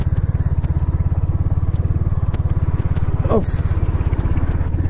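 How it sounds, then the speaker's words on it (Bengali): A motorcycle rides slowly through mud on a rainy monsoon mountain road in Arunachal Pradesh, its engine a steady, loud, low throb close by throughout, with a brief rattle or clatter near the end. "এই কাদার মধ্যে বাইক স্কিড করার চান্সেস থাকে ভাই"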